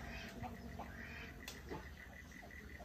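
Ducks on a village farm quack in short, scattered calls while being chased and caught, mixed into a busy outdoor background with other bird sounds and steady noise.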